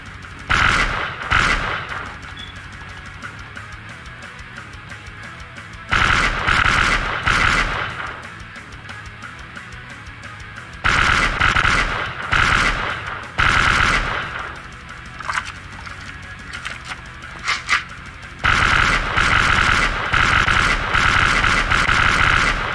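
Rapid automatic gunfire in the video game SlendyTubbies 3 comes in several loud sustained bursts separated by quieter pauses.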